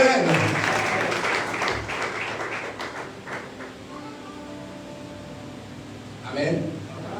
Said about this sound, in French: Nous disons tous Amen avec des acclamations.